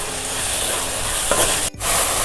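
Steady sizzling of onions and tomatoes sautéing in a pan, with a brief stirring scrape partway through and a short dip before the sizzle resumes.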